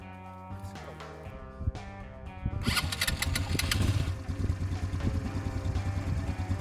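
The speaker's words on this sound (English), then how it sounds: "Let's get the engine started." A cheap ATV quad engine cranks and sputters into life, then settles into a steady, throbbing idle close by.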